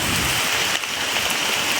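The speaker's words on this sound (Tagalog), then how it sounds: "Grabe ng ulan mga tulo." Heavy rain pours down in a steady, dense hiss that stays loud and unbroken for the whole stretch, with no voices over it.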